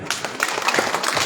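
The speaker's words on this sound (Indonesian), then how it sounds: "Tepuk tangan dulu." Brief crowd applause at a customary adat ceremony, a short dense burst of many hands clapping, fairly loud and close.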